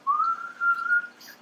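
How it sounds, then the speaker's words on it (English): A person whistles in reverse by breathing in, producing a close, wavering tone held in two breathy phrases with a short dip between, alone and unaccompanied. "I also can only whistle reverse."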